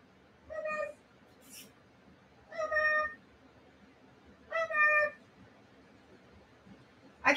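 A domestic cat meows three times at roughly two-second intervals, each call clear and fairly close, followed by a brief sharper sound at the end, over a faint low background hum.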